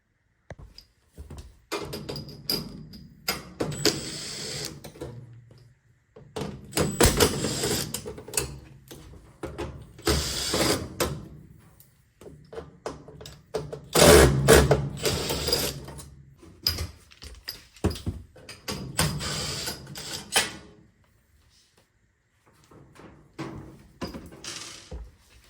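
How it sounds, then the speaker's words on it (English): Screws come out of a Maytag washer during a repair, heard as intermittent bursts of close clicking, ratcheting and metallic handling noise separated by quiet gaps. "Now that these are popped up a little bit, we can remove the other screws."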